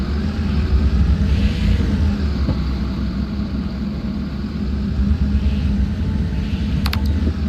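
A bus engine in the mobile game Otobüs Simulator Ultimate, running with a steady low rumble and slight revving swells, close and unbroken, with a brief high electronic chirp near the end.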